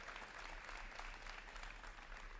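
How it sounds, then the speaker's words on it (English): Applause from an audience at a high school college signing ceremony, a steady, even wash of clapping heard faintly and at a distance, with a low hum running underneath. "A big round of applause for Bo."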